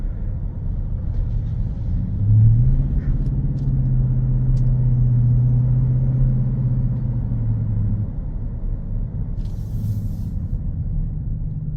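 A 2023 Ford F-150 Raptor R with a supercharged engine on a test drive, its low engine drone steady and close, swelling briefly around one gear change, with a faint whine over a continuous road rumble and no talking.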